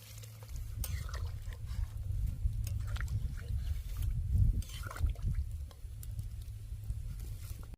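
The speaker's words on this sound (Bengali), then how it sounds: "আমরা গরম জল করতে ভুলে গেছি, তার জন্য ঠান্ডা জল দিয়ে দিলাম" Cold water poured into a cooking pot of prawn and pointed gourd curry, a steady soft splashing and gurgling patter that runs continuously at moderate level with a low hum beneath.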